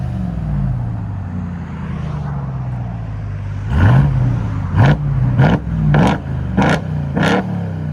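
A 700 hp RAM TRX pickup truck's exhaust revved loud and close, a steady idle breaking into several sharp throttle blips that rise and fall in quick succession.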